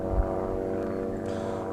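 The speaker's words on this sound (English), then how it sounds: "And once the plane's gone." A propeller airplane drones overhead, a steady low tonal engine hum with layered harmonics lasting throughout, moderately loud and distant-sounding, with no voices over it.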